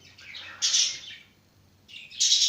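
A pet budgerigar chirping indoors, close and clear, in two bright bursts of rapid twittering calls separated by a brief pause.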